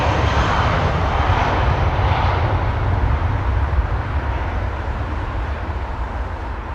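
A jet airliner arriving at London Heathrow Airport roars loud and close, its steady broadband engine rumble holding throughout and easing only slightly toward the end, with no voices.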